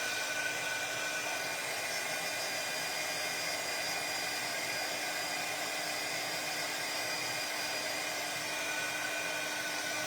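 Steady, loud whooshing of a hair dryer blowing continuously over wet craft pieces, an even roar with no breaks and no voices.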